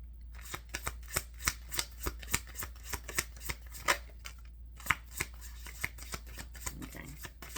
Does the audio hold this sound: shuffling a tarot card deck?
yes